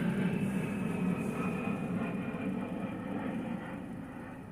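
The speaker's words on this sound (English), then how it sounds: "Another high-flying A-10 right here." An A-10 military jet flying high overhead near an air force base, a steady, distant engine roar that holds evenly throughout with no talking.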